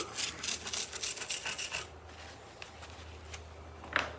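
A denture brush scrubs decades of grime off a 1979 Kramer DMZ 5000 bass, with quick, rhythmic, raspy strokes up close that stop halfway through, followed by quieter faint scrapes and a small knock.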